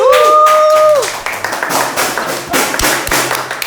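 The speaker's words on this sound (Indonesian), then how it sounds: "Woi, tepuk tangan." Scattered clapping and light taps close by, beginning after a brief tonal sound, then uneven bursts of handclaps with a few dull thumps, loud and near.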